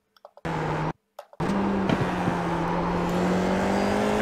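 A Formula IR-04 race car in a racing video game at Donington Park accelerates hard after brief cuts, a loud steady engine drone climbing in pitch as it pulls through the gears with no talk.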